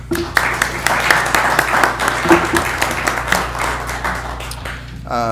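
Applause for the councilors at a city council meeting, a full round of clapping from a roomful of people, loud and close with sharp individual claps over a steady wash, tapering slightly near the end.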